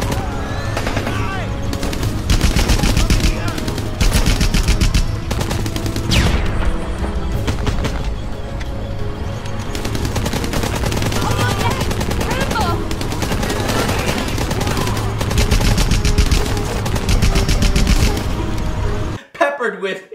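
Rapid machine-gun fire and booms from the on-rails shooting gallery in Rambo: The Video Game, loud and nearly constant, with someone talking over it.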